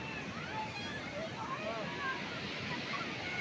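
Sea waves wash onto the shore at Gopalpur beach in Ganjam, a steady soft roar of surf with wind buffeting the microphone and faint distant crowd babble.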